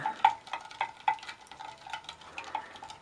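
Sodium metabisulfite and citric acid solution being stirred in a container, with a quiet irregular series of scraping, sloshing strokes and a few sharper clinks.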